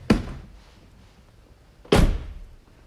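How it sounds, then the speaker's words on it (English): A car door is worked twice, about two seconds apart, each time with a sharp close-range thunk that decays quickly, while a car is parked to demonstrate CAN bus traffic. "So I'm just going to wake it up by opening the door again."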